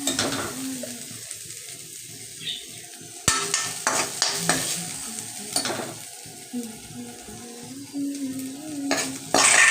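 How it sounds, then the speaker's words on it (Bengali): Yardlong beans sizzle and fry in a pan while a spatula scrapes and stirs, lifting them out, with occasional sharp clinks of metal on cookware over a steady hiss. "প্লেটের মধ্যে আমি বরবটি ভাজাগুলোকে প্রথমে তুলে নিচ্ছি"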